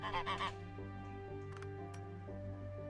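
A goose in the zoo-building video game Let's Build A Zoo gives a short burst of loud nasal honks at the start, followed by quieter ambient game sounds and faint tones.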